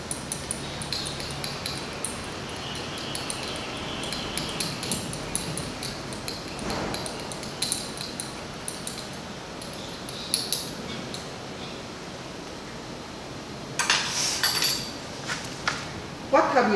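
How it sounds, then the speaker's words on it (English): A mixture being stirred in a container as part of a classroom demonstration of kinds of matter, with scattered clinks and taps of the utensil against the vessel over a steady background hiss. "then stir the mixture"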